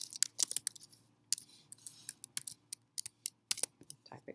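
Keys clatter on a computer keyboard in quick irregular bursts with short pauses, close and clear, no talking, as an article title is entered for a citation.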